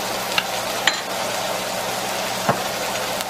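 Chopped garlic being stirred in a cooking pot for Jamaican rice and peas, a steady low sizzle with a few soft scraping clicks of the spoon, close and continuous.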